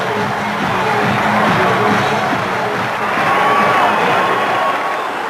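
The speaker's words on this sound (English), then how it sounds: "there are plenty of cheers, too, for Peter Caruana, the Chief Minister" A large outdoor crowd at a Gibraltar National Day rally cheers for Chief Minister Peter Caruana, a sustained wash of shouts and whoops rising and falling with scattered clapping.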